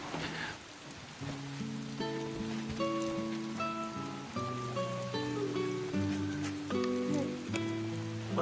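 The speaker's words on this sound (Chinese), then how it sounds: "又下雨了" Rain falling outdoors on a farm, a soft, continuous patter under melodic background music.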